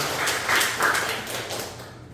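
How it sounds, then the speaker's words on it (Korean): A church congregation claps during a Sunday worship service, a short stretch of moderate applause with scattered individual claps that fades toward the end. "박수 한번 해주세요."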